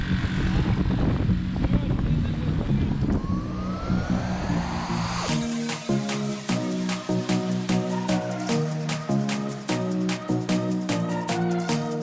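Airliner on a flight from Medellin to Panama City, a loud steady cabin engine roar with a slowly rising whine for several seconds, then abruptly giving way to a different rhythmic pulsing sound.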